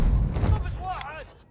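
A grenade blast in the Call of Duty Modern Warfare 2 campaign: a heavy, close boom that rumbles and decays while a voice cries out over the tail.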